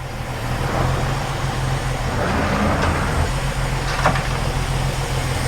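A car with a newly installed engine, on its first test drive, runs under load with a dense, steady low rumble and road noise from inside the cabin, a continuous drone with faint passing squeaks and no talking.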